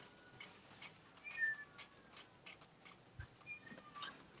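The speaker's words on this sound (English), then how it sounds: "Me and this cat. You hear it?" A cat meows faintly and intermittently in a quiet indoor setting, with a few short thin cries standing out over low background noise.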